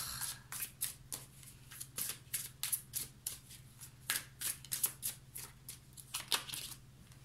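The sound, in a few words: tarot cards being laid and handled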